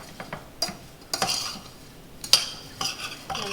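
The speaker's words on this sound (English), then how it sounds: "I'm going to give that a quick stir" Sliced rhubarb tossed with sugar is stirred with a utensil in a few quick scraping strokes, each a short gritty swish with light clinks, close and fairly soft.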